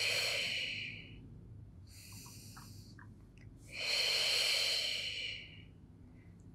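Slow, deliberate breathing during a postnatal Pilates exercise: a long airy exhale, a shorter breath, then another drawn-out audible exhale, close and quiet with no talk over it.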